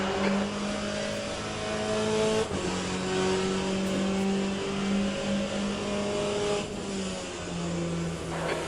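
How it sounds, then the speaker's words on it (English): Race cars in the Le Mans Ultimate racing game, a faster class car closing in, steady sustained engine drone with harmonic whine holding throughout, loud and continuous with a brief dip in tone. "There's a faster class car approaching."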